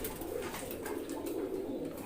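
Pigeons in a loft coo softly and repeatedly, a low murmuring that continues over a faint background, with no talking heard.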